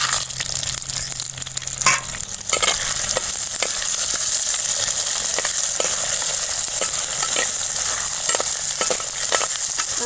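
Three green chilies, chana dal and urad dal fry in hot oil for a chutney, with a loud continuous sizzle and scattered clinks of a spoon stirring against the pan, no talking.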